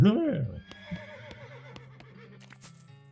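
A horse in the video game West of Loathing gives a short, sharp whinny at the start, then game music and sound effects continue quietly after it.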